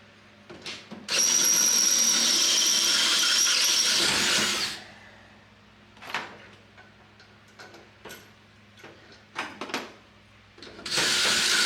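Power drill with a new bit boring a hole for a through bolt on a 1979 Pontiac Bonneville, heard as a loud close burst of drilling for several seconds, then scattered clicks and taps before the drill starts again.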